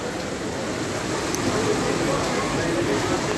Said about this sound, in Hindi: रेस्टोरेंट के बाहर जो है बारिश बहुत ज़्यादा तेज़ हो रही है